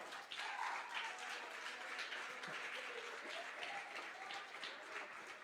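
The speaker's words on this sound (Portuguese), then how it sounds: "você pode aplaudir o Senhor." A church congregation applauds in a steady, continuous wash of clapping, fairly quiet and distant, with little voice over it.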